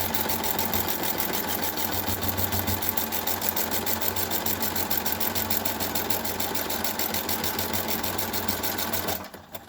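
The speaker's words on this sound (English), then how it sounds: "we are just going to sew down here with the seam allowance that you have given yourself" A sewing machine runs steadily, stitching a seam on a chair cushion with backstitching at each end, its rapid rhythmic needle chatter continuous and close before stopping abruptly at the end.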